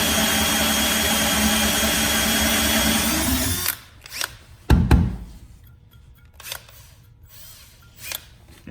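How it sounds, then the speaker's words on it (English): Cordless drill on a cheap Milwaukee-compatible battery pack, running loud and strained for several seconds, then cutting out abruptly, followed by brief handling clicks and short bursts. "hear that drill is really working there"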